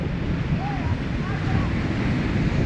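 Rough sea surf pounding a shore where fishing boats are pulled up, a loud churning wash mixed with heavy wind buffeting the microphone and a faint voice in the background.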